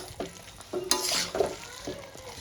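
Chicken and potatoes being stirred and fried in a pan with fresh coriander: scraping spoon strokes over a steady sizzle, close up, with no voices.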